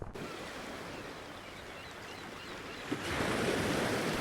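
Sea waves wash continuously against the shore beside a seaside city, a broad steady roar that swells louder toward the end, with some wind noise.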